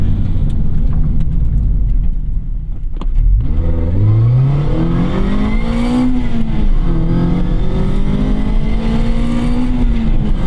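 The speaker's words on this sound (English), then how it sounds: "That high-pitched whine from the transmission with the induction note mod that he did." A Mazda MX-5 Miata ND2 with an induction note mod accelerates hard, a rising high-pitched transmission whine riding over a swelling engine and intake growl that climbs, dips at a shift, then climbs again, loud and close.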